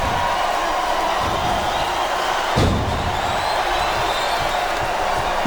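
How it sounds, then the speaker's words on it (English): An arena crowd keeps up a continuous roar through a wrestling match in WWE SmackDown vs Raw 2008, and a single heavy slam thuds partway through. "I think these superstars are getting some feedback from the crowd, JR."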